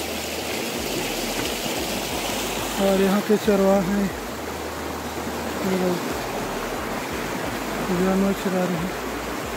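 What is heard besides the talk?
stream water flowing near Bhaisa-odar waterfall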